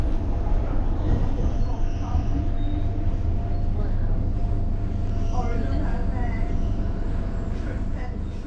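A metro train rumbles loudly and steadily throughout, a continuous low roar of a carriage in motion with people talking over it.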